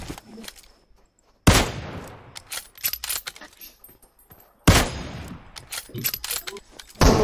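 Gunfire from the mobile battle royale game PUBG Mobile comes in two sharp, loud shots, each trailing off into a rattle of further clicks and impacts, with quiet stretches around them.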